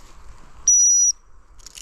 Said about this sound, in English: we use a stop whistle